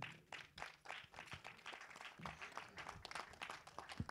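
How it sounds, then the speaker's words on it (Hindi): Faint, uneven clapping from a crowd at a film trailer launch greeting actor Sharad Kelkar, scattered claps rising and falling at a distance. "शरद केलकर के लिए एक बार जोरदार ताली होनी चाहिए"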